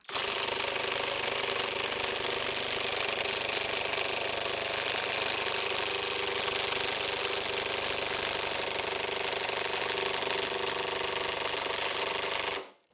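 A Uaoaii IW800 brushless cordless impact gun on its level 1 setting drives a nut, a loud, continuous rapid hammering rattle that runs steadily for about twelve seconds before cutting off abruptly.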